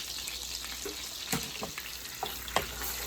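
Chopped onion goes into melted butter in a pan for a lemon garlic honey salmon and shrimp dish, giving a soft, steady sizzle with a few light stirring clicks and scrapes, close by with no talking.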